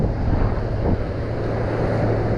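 Ocean surf breaking near the shore at Playa del Carmen, Mexico, a loud steady wash of waves and water with heavy wind rumble on the microphone and no voices.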